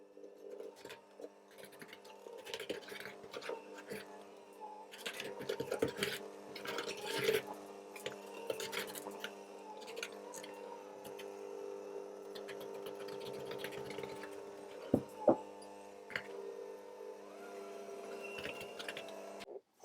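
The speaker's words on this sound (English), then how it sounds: "And I'm then going to just mix it together on a low speed." Electric mixer whirring on low speed through butter cake batter as flour is worked in, a steady motor hum with occasional clicks and scrapes, fairly faint and close.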